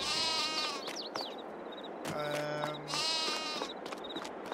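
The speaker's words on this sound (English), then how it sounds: "We own sheep as well, which are in here." Sheep bleating in Farming Simulator 22, with a flock of about sixty sheep and a ram in a farm pen. Several overlapping bleats sound close and loud against steady ambient farm noise, with no talking.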